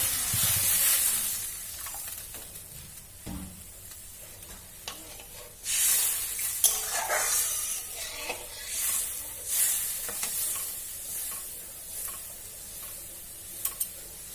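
Mustard hilsa curry simmers in a pan as water goes in, giving soft sizzling and hissing bursts with faint stirring clinks, mostly quiet with a few louder surges.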